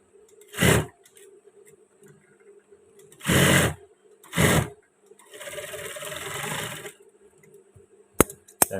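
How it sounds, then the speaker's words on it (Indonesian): A sewing machine stitching a side pocket onto a men's batik shirt, running in several short loud bursts separated by pauses, then a longer steadier run and a sharp click at the end. "Tinggal menjahit pas bagian sebelah sini."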